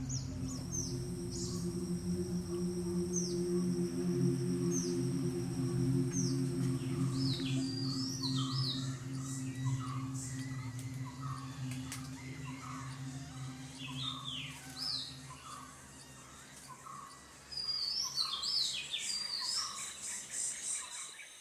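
Several birds sing and call in a forest, chirps and whistled phrases scattered over a steady, dense chorus of buzzing insects.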